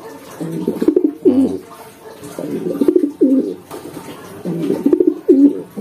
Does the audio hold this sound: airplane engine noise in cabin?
no